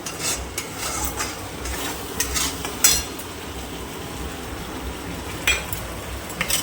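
A paste of ground cashew, yogurt and green chili fries with katla fish in an oiled pan, giving a soft continuous sizzle broken by occasional utensil scrapes and sharp clinks against the pan, with no talking.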